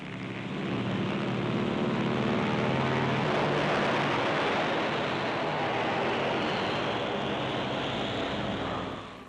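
A C-47 transport plane in flight towing a pair of CG-4A gliders at roughly 120 miles per hour cruising speed; a loud, steady engine drone fills the whole stretch and eases slightly near the end.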